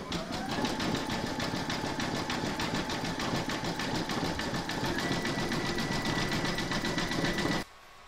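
A sewing machine runs steadily, zigzag satin stitching a raw edge on an in-the-hoop sloth applique, its rapid even needle rhythm buzzing continuously for several seconds before stopping abruptly near the end.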